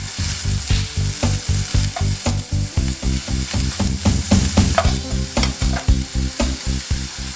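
Fresh ginger sizzles and fries in a hot pan while being stirred, a loud steady crackle broken by regular scraping strokes of the utensil, with no voices.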